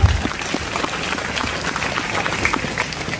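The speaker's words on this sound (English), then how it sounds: "a great round of applause for all the teachers who are working for the students here." An audience gives a round of applause for teachers, scattered hand claps forming a moderate, even patter that carries on steadily from start to finish.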